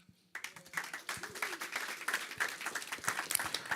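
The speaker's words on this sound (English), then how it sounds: "give them a round of applause" Audience applause at an OpenSIPS Summit conference session in Amsterdam: a room of people clapping, starting abruptly after a brief silence and then holding as a steady, dense patter of many hands.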